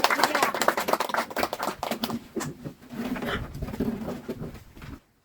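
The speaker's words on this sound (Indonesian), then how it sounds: "tepuk tangan dulu untuk kelompok 3" A room full of people claps for a presenting discussion group, a dense patter of hands that thins and then swells again before stopping abruptly at the end.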